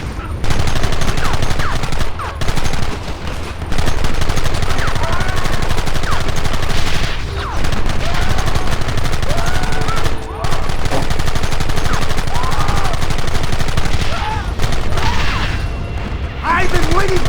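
Sustained gunfire from the Western video game Red Dead Redemption: continuous loud volleys of shots and bursts filling the scene, with a few brief lulls, while voices shout over the shooting.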